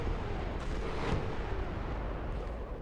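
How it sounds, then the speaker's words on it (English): A bomb blast in a World War II tank battle game booms out with a sharp burst near the one-second mark, then rumbles away into a thick, low roar. "I think that explosion must have been from bombs and not my rocket"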